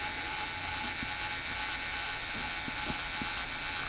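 The mechanical self-timer of a 1955 Leica M3 double-stroke camera runs with a continuous fine whirring buzz, close and fairly quiet, with a few faint clicks.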